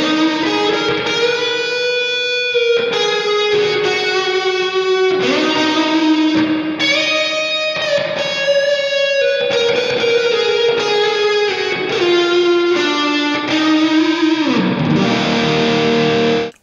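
Electric guitar played through a simulated Orange amp with heavy reverb, sustained chords and melodic lines ringing out with long washy tails, loud and continuous with no talking.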